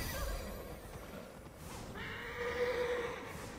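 A horse in the video game Immortals Fenyx Rising lets out a loud, drawn-out whinny with a wavering, high-pitched tail, heard over continuous game ambience.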